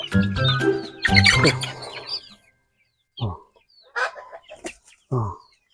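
Chickens in a Philippine yard, a busy burst of clucking and calls at first, then a few scattered short clucks after a pause; no one speaks.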